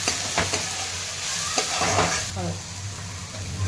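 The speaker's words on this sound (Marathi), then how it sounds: "तेलामध्ये जिरी टाकलेली आहे मोहरी टाकलेली आहे कढीपत्ता हिरवी मिरची लसूण अद्रक कोथिंबीर आणि कढीपत्ता हे बारीक केलेलं हिंग टाकला आहे थोडासा परतून घेते" Cumin, mustard seeds, curry leaves, green chilli, garlic, ginger and asafoetida sauté in hot oil for a potato bhaji, giving a continuous close sizzle broken by a few soft stirring scrapes.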